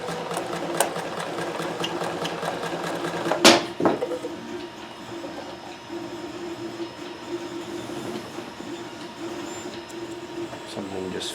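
A Singer sewing machine stitches in a fast, rhythmic mechanical patter, interrupted by a loud clunk partway through, then carries on whirring steadily, close and clear.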